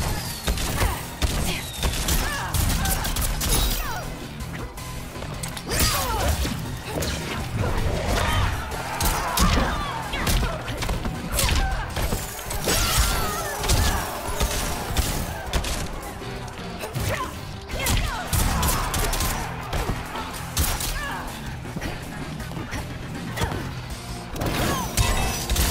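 Fireworks crackle and burst during a Mortal Kombat 11 fight, amid dense, continuous game combat of smashes, thuds, whooshes and impacts that fill the whole stretch at a steady loud level.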